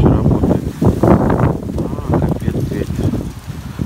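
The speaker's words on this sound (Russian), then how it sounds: "Капец, ветер." Strong wind buffets a microphone at the seaside in Gelendzhik, a steady low rumble running throughout beneath continuous close talking.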